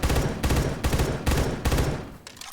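Video-game FAMAS rifle fired in rapid bursts, four loud, close, evenly spaced clusters of crackling shots with short gaps between them, tailing off into a quieter end.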